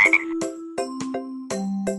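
A cartoon frog croaks in the Kiddopia game, a series of about six sharp, close, evenly spaced croaks over a sustained musical tone that steps down in pitch.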